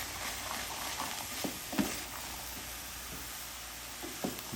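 Lasagna soup ingredients sizzle steadily in a pot over medium heat, a faint continuous frying hiss broken by a few soft stirring clicks and scrapes, with no talking.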